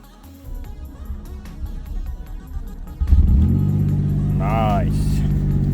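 An Opel Omega MV6 3.0 on a booster in cold weather cranks for a few seconds, then its engine catches and settles into a steady, loud idle rumble.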